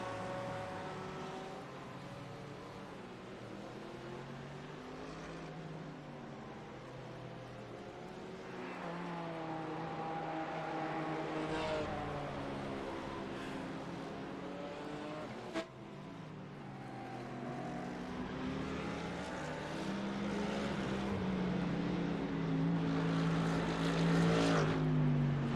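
GT race cars from a racing video game drone continuously, with engine notes rising and falling as they shift gears and pass, a layered steady roar under no talk.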